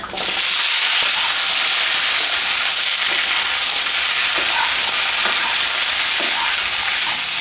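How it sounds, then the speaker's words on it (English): Vegetables stir-fry, sizzling loudly and continuously in a hot pan, with occasional soft scraping and stirring knocks beneath the crackle. "Just give these vegetables a quick stir fry."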